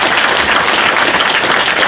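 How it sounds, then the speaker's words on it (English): Audience applause from a gun-industry Q&A panel crowd at the NRA convention fills the full two seconds, a dense, steady wash of clapping with no speech over it. "Clap it up, guys."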